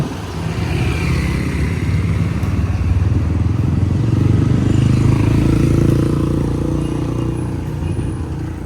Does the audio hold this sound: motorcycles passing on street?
yes